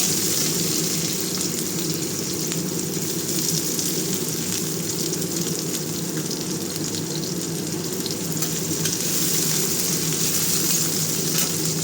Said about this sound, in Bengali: রসুনটা একটু ভাজা ভাজা হলে পেঁয়াজ দিয়ে দিলাম।